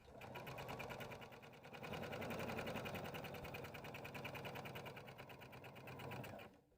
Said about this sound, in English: we're simply going to stitch our lining opening closed